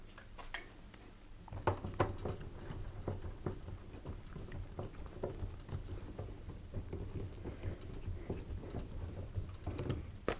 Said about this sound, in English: Now I need to retighten all these screws.